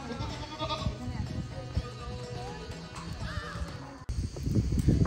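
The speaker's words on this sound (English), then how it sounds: "They have boar goats also." Boer goats bleat in a busy farm setting with dairy and goat pens, with overlapping animal calls and background voices; the noise grows louder and denser toward the end.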